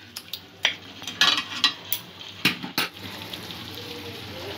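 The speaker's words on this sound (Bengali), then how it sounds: "মাংসটা 2-3 মিনিট এই সমস্ত উপকরণের সঙ্গে একটু ভাজা করে নেব।" Chicken frying with spices in a kadai makes a quiet background sizzle, broken by a series of sharp spoon scrapes and clanks against the pan at irregular intervals.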